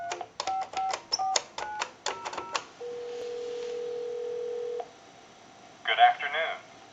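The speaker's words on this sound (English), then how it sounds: "So we'll go ahead and give you some dial tone." A Western Electric 10-key touch-tone telephone dials a run of short, crisp keypad tones. A steady dial tone follows for about two seconds, then a brief recorded voice comes on the line.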